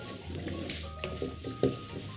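Garlic fries in a pan with a steady, close sizzle and crackle, broken by a few light stirring clicks and taps.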